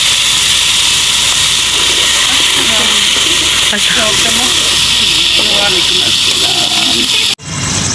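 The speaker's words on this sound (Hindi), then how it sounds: "इसका ये अभी घी में डालती ताकि अच्छे से ये भून जाए" Freshly ground masala sizzles in hot ghee, a loud, continuous hiss with crackling beneath it that runs unbroken for several seconds before cutting off abruptly.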